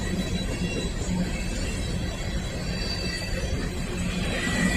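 A Norfolk Southern local freight train passes on a line heading toward Forest, Virginia. A steady, broad low rumble holds throughout with no voices, as of rail cars rolling by at moderate distance.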